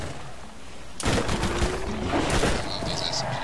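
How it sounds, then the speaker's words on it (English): Rapid submachine gun bursts fire in the Borderlands shooter game, a sudden loud volley erupting after a quiet start and continuing densely with game effects layered over it. "I love these SMGs."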